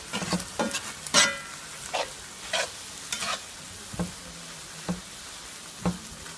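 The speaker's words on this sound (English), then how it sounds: "mixing up the steak" Steak for steak and cheese bulky sandwiches being stirred and fried in a pan: a steady sizzle with repeated scraping stirs at an irregular rhythm, close and fairly quiet, with no talking.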